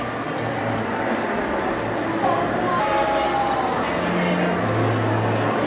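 A train at Disneyland Paris heard from on board or alongside it: a steady rumbling rail roar with a low mechanical hum and faint squealing wheel tones, loud and continuous throughout.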